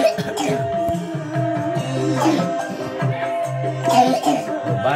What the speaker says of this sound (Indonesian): Batuk minum es mulu sih.